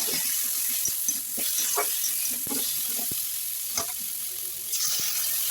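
Ginger and cumin paste sizzling as it is stirred into a rohu fish and cabbage curry, a loud close hiss with repeated sharp scraping strokes of a spatula.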